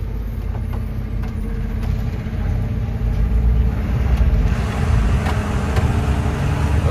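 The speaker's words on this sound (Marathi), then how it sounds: "ही गाड्या बघा कसं फास्ट यायला लागल्यात." Cars, trucks and buses rush past on a narrow road at a tight right-hand turn, a steady loud engine rumble that swells slightly as vehicles draw near.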